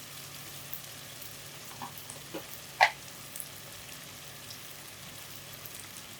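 Tomatoes and onions sauté gently in a pan for paneer butter masala, giving a faint, steady sizzle with a few soft pops and one brief clink near the middle.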